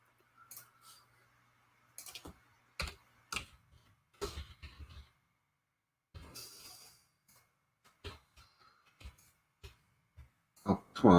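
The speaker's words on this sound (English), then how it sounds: "Lazy typing." Keys on a computer keyboard click quietly and close by in short, irregular bursts separated by pauses, with a few louder taps near the end.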